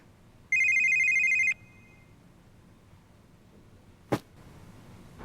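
A mobile phone rings once in a short electronic burst lasting about a second, fairly clear in a quiet room, followed later by a brief sharp click.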